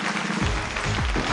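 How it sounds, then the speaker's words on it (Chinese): An audience on a Beijing TV dating show breaks into steady, loud applause as the first male guest is welcomed on, with clapping and cheering filling the room and low music and stage noise running beneath. "掌声有请"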